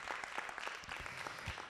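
A church congregation claps together at a Sunday service, a dense, steady patter of many hands filling the room for a brief burst, with no voices heard.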